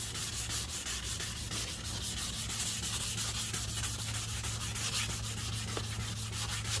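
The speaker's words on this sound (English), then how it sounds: "the wet sanding process is now beginning" Steady, continuous wet sanding of car paint while repairing a paint chip, a wet, gritty swish of the pad across the panel that runs without pause throughout, close and even in level.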